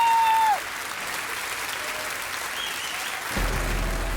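An audience claps to welcome the performer Mayuri onto a comedy show stage. The applause is dense and sustained for several seconds, following a brief tone at the start, with a low hum rising near the end.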